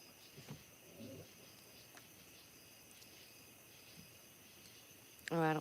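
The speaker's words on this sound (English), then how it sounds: "I don't pay attention to the crickets unless they are real loud" Crickets chirp at night in a faint, steady high trill beneath a quiet background, with a few soft thumps and a short louder voice near the end.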